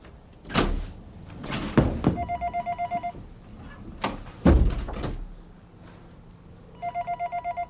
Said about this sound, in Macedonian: Телефонот звони, јави се.